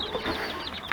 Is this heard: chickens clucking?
yes